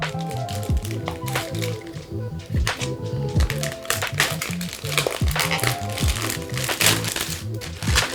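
Comic book shipping packaging is torn open and tape peeled away, giving dense crinkling, ripping and crackling close to the mic in quick irregular bursts, with a few low thumps as the package is handled.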